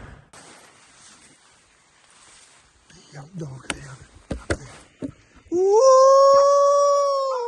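A big yellow dog out in thick bush howls in a loud, rising wail held for about two seconds, after a stretch of faint rustling and scattered thumps.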